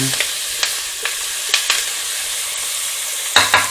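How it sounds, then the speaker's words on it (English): Chopped vegetables sizzle in a pan for spaghetti bolognese while a utensil stirs them, the steady frying hiss punctuated by several close scrapes and clacks, ending with a louder stir. "just fry this for about 10 minutes and just stir the veg"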